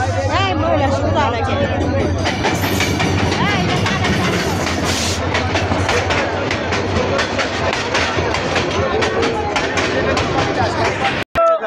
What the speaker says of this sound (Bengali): ট্রেন চলে আসতেছে।